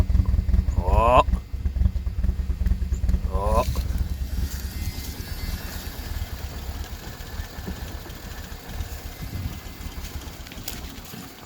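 A 1986 Ford Mustang SVO engine cold-starts after two cranking attempts, then settles into a loud, rough idle with some stiff-throttle blips; a person exclaims during the run.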